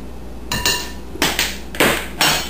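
Dry ingredients of sugar, baking powder and salt being stirred in a bowl for peach cobbler, heard as four separate clinking scrapes of utensil against the bowl, each short and fairly close, with quiet pauses between.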